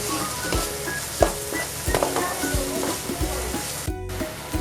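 Spice masala frying in a pan until the oil separates, a constant close sizzle with scraping stirs and spoon knocks against the pan, plus a brief hiss near the end.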